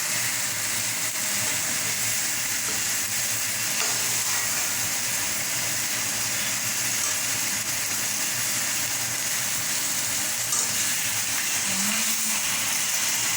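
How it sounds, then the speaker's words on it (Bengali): A fish head frying in oil in a pan for Bengali muri ghonto gives a steady, close sizzle with a faint crackle throughout and no talk. "মুড়িটাকে একটু ভালো করে ভেজে নেবে"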